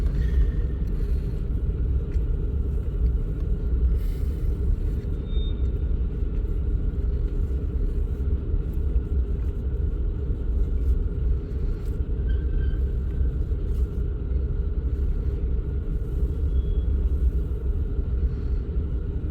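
Train cars rolling through Hobson Yard in Lincoln, Nebraska at night, a steady low rumble of wheels on rail that holds unbroken for the whole stretch, with faint high squeals now and then.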